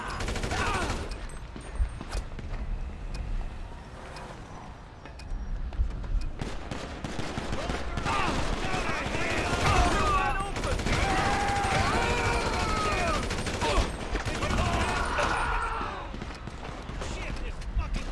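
Sustained bursts of gunfire from a gun in GTA V, with rapid shots and fusillades rolling through most of the stretch, loud and close, with panicked voices talking and shouting over them.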